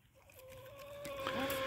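Hens being fed chayote give a short run of soft, close clucks and a rising call over a quiet background, with no talking.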